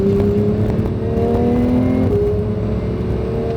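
A Porsche 911 (992) GT3 engine revs hard on a race track, a loud continuous wail climbing in pitch, dropping sharply at a gear change, then rising again close up.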